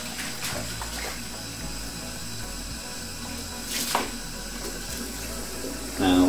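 Tap water runs into a kitchen sink over the drainer while a telescope mirror is rinsed, a steady close splashing stream with brief louder surges near the middle and at the end.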